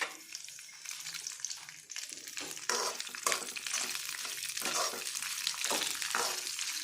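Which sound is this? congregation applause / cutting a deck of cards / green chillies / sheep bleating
green chillies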